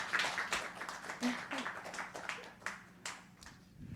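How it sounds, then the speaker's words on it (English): A small round of applause for the team at the close of a conference birds-of-a-feather session on mobile Linux localization, sparse scattered claps from a modest group, fairly quiet and uneven. "Can we give everyone a round of applause?"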